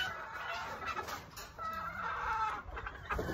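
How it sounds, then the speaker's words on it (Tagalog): A fighting cock on a farm clucks and calls in short repeated bursts at close range, over a bed of steady outdoor background noise with no talking. "mga winning bloodlines ng pansabong, fighting cocks"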